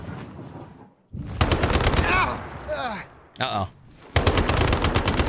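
Rapid automatic gunfire in the video game Once Human, aimed at a ghostly boss, comes in dense bursts at the start and end, with someone talking briefly between the volleys.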